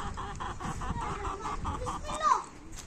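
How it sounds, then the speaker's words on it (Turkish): Chickens and a rooster on a farm cluck in a quick, regular run of short calls, moderately close, ending in a sharper squawk, with faint background activity and no clear talk. "horoza dikkat et"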